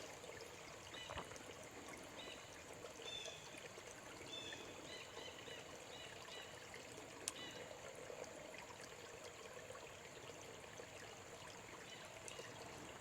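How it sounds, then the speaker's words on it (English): Shallow spring branch running low, its water trickling slowly with a soft, steady, continuous babble heard faintly outdoors, with occasional distant bird calls. "The water in the spring branch gets really low this time of year, so the water feels like it moves a little slower."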